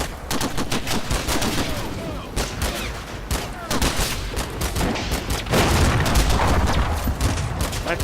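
Combat Mission battle gunfire: dense bursts of rifle and machine-gun fire crackle in rapid, overlapping volleys with heavier booms, loud and continuous throughout, a voice speaking briefly over it.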